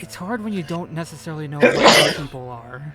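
A person talks, and midway a sharp, loud sneeze bursts over the speech before the talking carries on.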